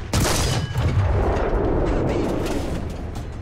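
A tank cannon fires in the video game War Thunder: one loud, close boom at the start that rolls into a long, heavy rumble and fades slowly over several seconds.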